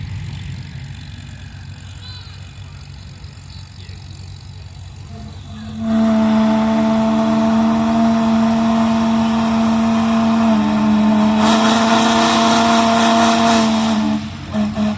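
A 1954 Farmall Super M tractor at a steam threshers reunion tractor pull, its engine suddenly roaring up after a low idle into a loud, sustained droning rev that holds steady before easing off near the end.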